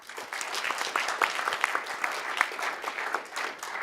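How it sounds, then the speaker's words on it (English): An audience at a literary talk applauds warmly, with dense, continuous clapping and a few sharp individual claps standing out, close and steady throughout. "Warm applause for Jeff Warren."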